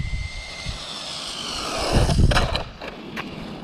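A DeeRc 1217 RC car's electric motor runs at full throttle outdoors, a steady high whine with a louder surge and rough crunching around the middle, then brief sharp knocks as it bashes along.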